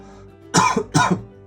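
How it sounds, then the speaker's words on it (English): Two quick, harsh coughs in a row, close and loud, with a brief pause between them. "I have a cough left over from my illness."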